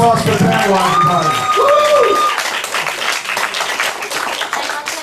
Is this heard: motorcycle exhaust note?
no